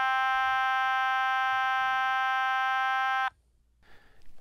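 A single sustained electronic tone with a buzzy, harmonic-rich timbre holds steady for about three seconds, then cuts off abruptly; an Otamatone note, loud and close, followed by faint handling noise.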